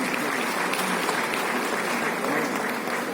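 A ceremony audience at a CPWD foundation day event breaks into sustained, even applause, a dense wash of clapping that continues from start to finish.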